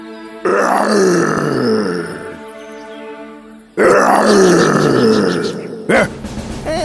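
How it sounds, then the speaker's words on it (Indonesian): A cartoon lion-like roar echoes from inside a well, loud and close, coming in two long growling bursts with a short break between them and a brief sharp sound near the end. "Tiba-tiba dari dalam sumur terdengar suara yang mengaum"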